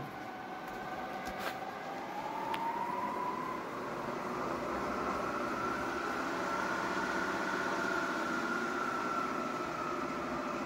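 A Willis knee mill switched on in forward, its motor and spindle giving a steady, moderately loud machine hum and whine that holds evenly throughout, with a faint tonal rise partway through and no talking.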